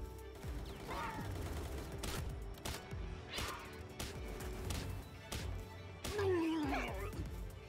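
Rapid bursts of machine-gun fire crackle in the Palworld video game, mixed with repeated thuds and impacts at an uneven rhythm, with a brief voice-like chirp near the end.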